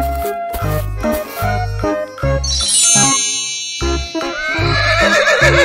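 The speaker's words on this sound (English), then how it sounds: "Horse." A horse neighs amid bright chiming and tinkling effects over a bouncy musical backing, with a rising whinny-like sweep in the middle and shimmering jingles toward the end; no one speaks.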